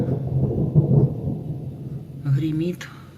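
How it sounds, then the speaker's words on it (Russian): Thunder rumbles low and heavy as a storm approaches on a summer afternoon, a continuous deep roll that swells and fades, with a brief higher sound near the end. "И так быстро этот гром приближается."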